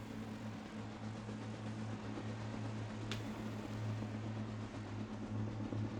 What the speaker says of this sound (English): I could hear several helicopters in the sky above me.